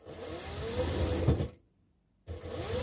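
A home sewing machine stitches steadily at close range with a mechanical whirr and ticking, stops abruptly for a moment of silence, then starts running again.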